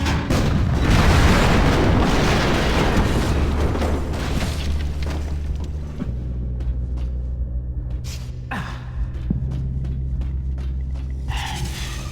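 Explosions in the Ghosthunter video game open with a loud, sustained booming rumble that slowly fades into low drones, followed by a few scattered softer thuds and crackles.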